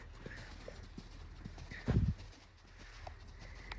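Performance-bred Arabian Warmblood horse cantering in a training session, hooves clip-clopping in a soft, moderately distant rhythm, with one louder thud midway and a faint background hiss.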